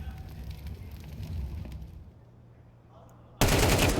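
Bursts of Counter-Strike 2 rifle fire crackle through a tense round, dense noisy shots up front that fade into quieter ambience before a loud sudden blast of noise at the end.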